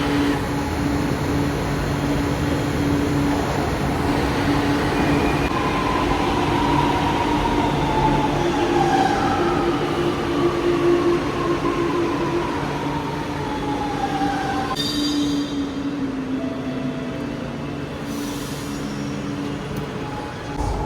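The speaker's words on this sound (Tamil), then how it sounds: "மெட்ரோ ஸ்டேஷன்லேருந்து மெட்ரோ ஏறி மெட்ரோ ட்ரெயினில் போயிட்டுருக்கேன்" A Chennai metro train rolls along with a steady loud rumble, rising and falling motor whine and tonal hums, and a few electronic chimes near the end.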